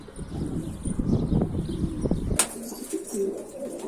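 A caught bird flapping its wings in a burst of fluttery rustles, close and fairly faint, followed by a sharp knock and quieter background noise.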